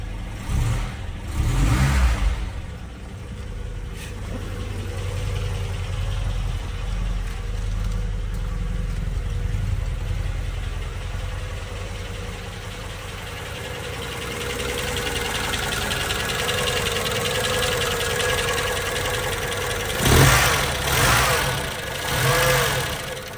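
A 52-year-old Volvo 144 with newly fitted electronic ignition cranks and fires up, then settles into a steady idle rumble, with a few louder revs near the end, close by and alone.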